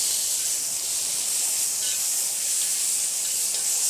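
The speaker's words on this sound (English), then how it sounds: "Let those sizzle away for a little bit." Tomato and pineapple sizzle in a hot pan, a loud, steady hiss that holds evenly throughout with no talking.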